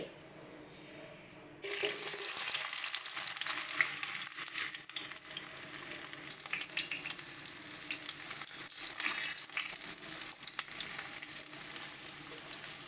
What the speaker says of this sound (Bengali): তেল আমাদের ভালো করে গরম হয়ে গেছে, দিয়ে দিচ্ছি পেঁয়াজ কুচি।